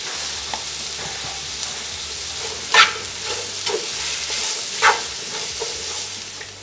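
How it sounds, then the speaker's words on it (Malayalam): Onions with a teaspoon of salt sizzle steadily in a pan for a Kerala-style Mughal chicken biryani, with a constant frying hiss broken by a couple of louder scraping stirs. "ഒരു ടീസ്പൂൺ ഉപ്പ് ചേർത്ത് കൊടുക്കാം, സവാള ഒന്ന് മൊരിയാൻ വേണ്ടിയിട്ട്"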